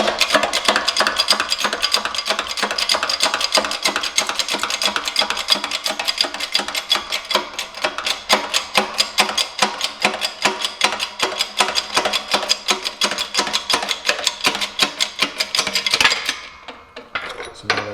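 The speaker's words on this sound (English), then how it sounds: "So now you just press these out." A shop press forces worn lower control arm bushings out of a G35 control arm, giving a dense run of sharp metallic clicks, cracks and creaks for about sixteen seconds before the sound stops abruptly.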